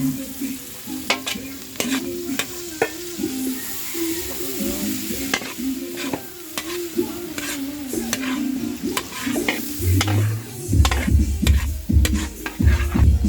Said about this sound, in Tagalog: Gisa na kami ng bawang sibuyas.